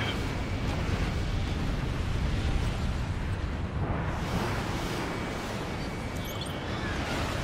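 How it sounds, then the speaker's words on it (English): Explosions from the combat flight game Ace Combat Infinity, a dense, continuous roar of blasts and rumble filling the whole stretch with steady loudness. "You can actually see my game starting to chug because of all the explosions going on right now."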